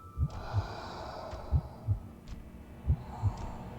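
A heartbeat sound effect in a video game throbs in slow, evenly spaced double thumps, low and close, looping steadily over a faint hum.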